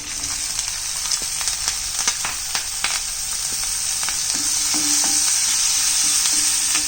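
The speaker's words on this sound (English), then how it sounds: "and saute it for half a minute" Cumin seeds and chilies sauté in hot oil for tapioca pearl khichdi, giving a steady close crackling sizzle with scattered sharp pops and tapping, growing slightly louder toward the end.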